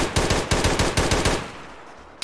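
A rapid burst of automatic gunfire in the military video game ArmA 3 during a Zeus Venezuelan Cold War operation, loud and close, about a dozen evenly spaced shots before the firing stops and a single sharp report follows.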